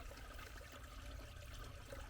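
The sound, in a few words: water flowing out of a stone niche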